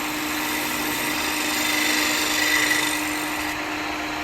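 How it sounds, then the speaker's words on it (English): Spindle gouge cutting a spinning wooden blank on a woodturning lathe while shaping a cowboy hat, a steady continuous scraping hiss over the motor's hum, close and even, swelling slightly midway. "Going over to my spindle gouge now, and this will clean everything up."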